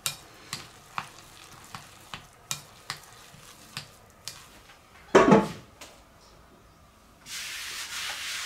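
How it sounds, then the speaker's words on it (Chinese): Radish and ginger dumpling filling being mixed in a small bowl, a regular series of soft scraping stir strokes about every half second, then a louder bump and a steadier rubbing sound at the end. "接下来把馅料再给它搅拌均匀"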